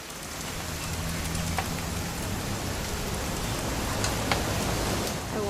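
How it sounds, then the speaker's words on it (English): Steady rain in the video game What Remains of Edith Finch, a dense even hiss of drops falling throughout, with faint low hum beneath and no talk. "It's gonna rain the whole weekend,"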